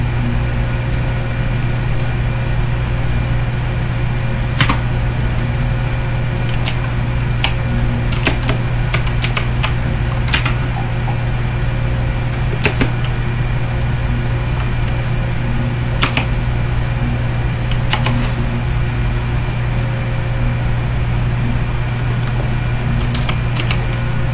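Fingers type on a computer keyboard in a quiet room, with scattered, irregular clicks and short bursts of keystrokes over a constant fan-like hum, no one speaking.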